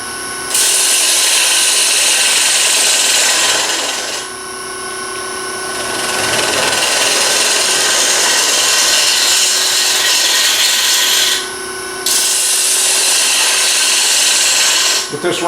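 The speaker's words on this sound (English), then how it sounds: "With this round nose scraper that I'm using, you can really go either way." A round nose scraper cuts wood on a lathe for inside-out turning, a loud, close, continuous hissing scrape that runs in long passes, broken by brief lulls as the tool lifts away.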